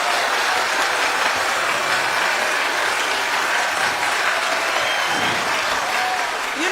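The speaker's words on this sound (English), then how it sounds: "can you clap for her?" Steady, dense applause from a pageant audience at Ghana Most Beautiful 2024, loud and sustained for several seconds without a break.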